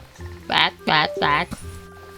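Three croaks from a cartoon frog pet in a video game, each a short, throaty, rippling burst with brief pauses between, close and clear over a soft steady game backdrop.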